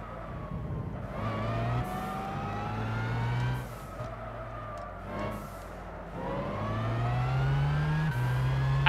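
A race car in Gran Turismo 6 at Silverstone revs up through successive gears, each rising engine whine cut by a brief shift before climbing again, loud and close without talk.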